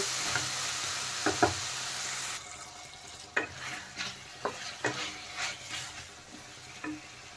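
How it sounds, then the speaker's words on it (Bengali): Potato and taro chunks being stir-fried with spices in a pan for a taro curry, a broad sizzle with repeated scraping and clinking strokes of a spoon against the pan, fairly close, with no voices. "দিয়ে এখন সব মশলার সাথে আলু আর কচুটা কিন্তু ভালোভাবে মিশিয়ে নেব। আমি মিশিয়ে আর একটু ভালোভাবে কষিয়ে নেব।"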